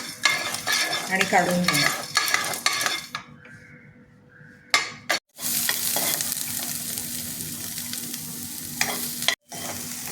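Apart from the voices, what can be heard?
dry roasting whole spices in a pan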